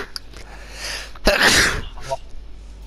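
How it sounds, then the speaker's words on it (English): A single loud sneeze from a nearby person, a quick inhale followed by a sharp burst, with faint background noise around it. "I need to sneeze already."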